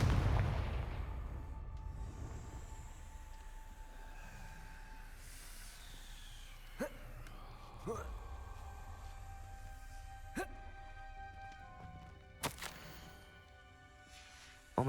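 Confringo explosive spell blasts in the Hogwarts Legacy video game, several sharp cracks and booms spaced a few seconds apart over a rumbling, hissing game soundscape.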